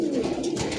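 Pigeons coo steadily in a loft full of young birds, a soft continuous low burbling from several birds close by, with no voices.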